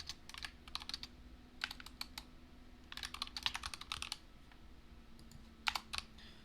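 Quick bursts of typing on a computer keyboard as code is entered, clusters of close, crisp key clicks separated by short pauses, alone with no voices.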